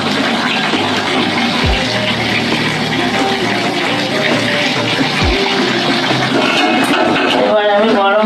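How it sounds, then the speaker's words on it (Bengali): Hot water poured into a pot of country chicken curry with potatoes, a loud, steady, close rushing splash that continues throughout. "এবার আমি গরম জলটা দিয়ে দিলাম।"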